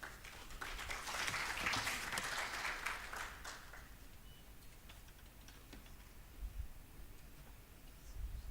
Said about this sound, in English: It is always so encouraging when they clap for you before the speech.